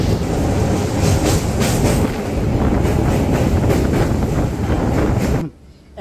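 Kolkata to Digha special train 03161 running past Dakshineswar, a loud steady rumble of wheels and wind with faint rhythmic clatter that cuts off abruptly near the end.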